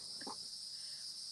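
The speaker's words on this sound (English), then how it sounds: "Sorry about the cicadas, everybody." Outdoor cicadas drone in a continuous, loud, high buzzing wash throughout, with a brief faint low sound near the start and no talking.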